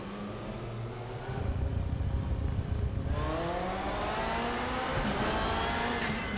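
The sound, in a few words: BMW E92 race car engine revving, from RaceRoom video game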